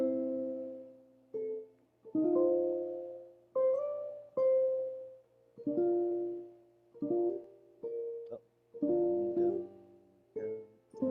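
A ukulele plucked with the thumb gives warm, rounded single notes and small note groups, each left to ring and fade, played slowly and softly in a quiet room.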